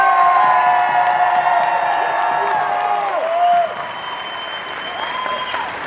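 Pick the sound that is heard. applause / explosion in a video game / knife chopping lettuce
applause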